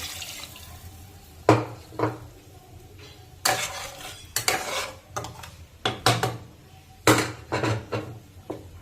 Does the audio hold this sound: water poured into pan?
yes